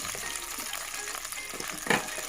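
Chicken sizzles and crackles steadily in hot oil, with a brief louder spatter near the end.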